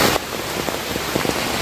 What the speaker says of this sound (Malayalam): ഞങ്ങൾ ഇത്രയും മഴ പെയ്യുമെന്ന് ഒരിക്കലും പ്രതീക്ഷിച്ചില്ല